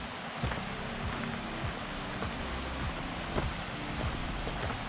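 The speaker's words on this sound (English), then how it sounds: "lovely water running down" Water tumbles down a mountainside stream near Scafell Pike in a steady rushing wash, broadband and close, with occasional small knocks and bumps over it and no talking.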